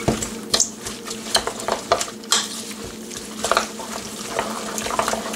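Big eggs being stirred into a chicken and leek patty mixture for Slovak patties, a steady wet squelching and slapping with repeated utensil strokes against the bowl, close and fairly loud, without speech.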